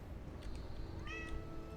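A cat meows in the video game Starfield, two short calls over a low steady background hum with no talking.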